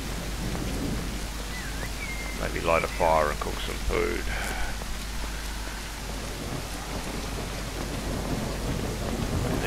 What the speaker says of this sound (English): Somewhere we can shelter out of the rain.